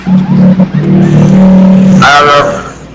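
Tricycles and motorcycles pass noisily along a roadside, engines droning and rising loud and close for a couple of seconds before a brief sharper burst, with no clear talk over it.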